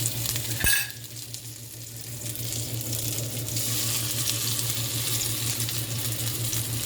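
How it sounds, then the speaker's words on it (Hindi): Bread-coated cutlets shallow frying in hot oil, a steady bright sizzle running throughout after a brief sharp knock of the pan near the start, with a low hum underneath and no talking. "बस हम इस कटलेट को आगे पीछे थोड़ा शैलो फ्राई करेंगे"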